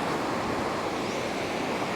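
Waves wash along the seashore in a steady, loud, broadband roar of surf that carries on without a break, with wind mixed in.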